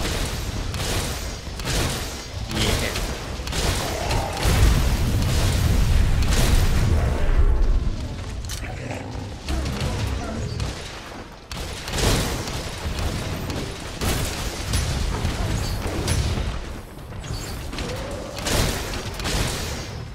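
Sticky ammo detonations from a heavy bowgun in a hunting video game, a dense, continuous barrage of booming blasts and thuds with loud low rumble throughout, no clear pauses between impacts.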